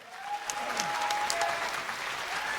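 An audience applauds at an online streaming awards ceremony, the 2016 AfreecaTV BJ Awards, with dense sustained clapping and a faint tone running beneath.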